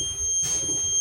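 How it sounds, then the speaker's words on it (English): A Blue Bird gasoline school bus's low air pressure warning sounds as a steady high-pitched electronic tone through the whole second, with faint cab rumble underneath. "I'm looking for the alarm and light, low pressure alarm and light to activate"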